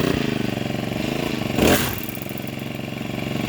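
A Honda-type brush cutter engine fitted with a nylon line head revs up briefly from a steady buzzing run, peaking in a short loud burst before settling back to its running drone, close by.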